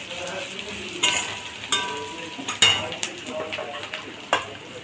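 Panch phoron spices crackle in hot oil in a pan for khichuri, a soft sizzle under several sharp metallic clinks of a spoon against the pot.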